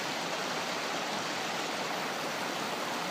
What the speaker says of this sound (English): Looking at this water output here, this flow, I mean, it's a lot of water